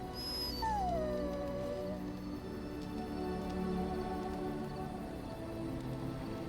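A dog in Dragon Age: Origins gives a drawn-out howl and whimper over a steady bed of game ambience and music, moderately loud and continuous.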